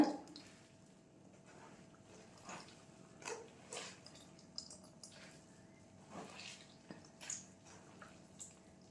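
Water dribbles and drips in irregular splashes, with soft squishing sounds as wet food is squeezed out while making Kasi halwa, close and fairly quiet.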